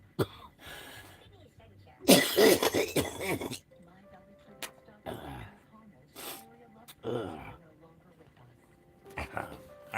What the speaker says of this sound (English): Morning time, I cough so freaking much.